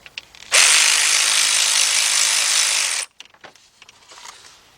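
A power tool whirs loudly for about two and a half seconds while removing a nut on a Trailblazer valve cover, then stops abruptly, followed by faint clicks and handling noises.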